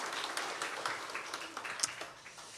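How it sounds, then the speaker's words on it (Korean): A Korean church congregation claps during a Sunday worship service, a soft, fairly distant wash of applause that holds steady and then thins out. "우리 하나님께 영광의 박수 올려드리겠습니다"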